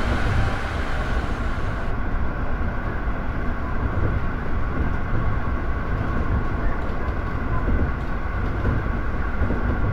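A local train in the Train Drive ATS2 driving simulator runs steadily, giving a continuous, dense rumble with faint rail clatter for about ten seconds and no talking.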